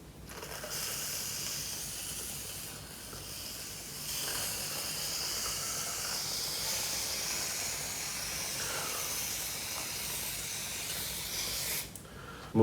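Whipped cream sprayed from a can onto a giant waffle, a steady soft hiss lasting several seconds, ending with a brief sputter.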